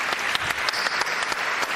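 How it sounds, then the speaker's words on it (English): Audience applause for an award-winning team at the Champions League group-stage draw, a continuous, fairly loud crowd clapping texture with scattered sharper claps. "I'm going to give them again a big applause, and I hope you will join me"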